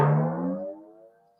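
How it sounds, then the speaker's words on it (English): A single hammer strike rings out as a metallic clang, loud at first and then decaying into a clear humming tone over about a second and a half, alone. "this is the sound of the hammer, you know, the angel use."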